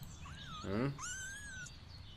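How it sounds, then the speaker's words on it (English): A cat meows in a video game, a single rising-then-falling call followed by a longer sustained meow over a steady background of game ambience and music. "Was that a dog? He stops in his tracks. That sound. Oh, it's a cat."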